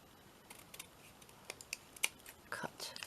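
Paper being cut with scissors while shaping an origami cupcake paperclip, a few soft separate snips and rustles, close and quiet with no talking.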